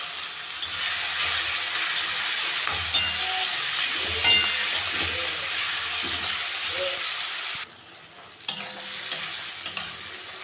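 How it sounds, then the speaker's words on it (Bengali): Onions and green chillies fry in a pan with a steady, close sizzle and stirring scrapes. The sizzle dips briefly near the end, then picks up again, with no talk over it. "পেঁয়াজগুলো একটু ভাজা ভাজা হয়ে গেছে"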